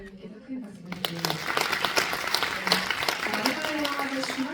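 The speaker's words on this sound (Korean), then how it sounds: "오늘 수고하신 김혜진 평론가님께도 큰 박수를 드립니다." Viewers at a film screening Q&A break into applause for a film critic, a brisk crowd clapping that swells after a brief voice at the start and continues steadily.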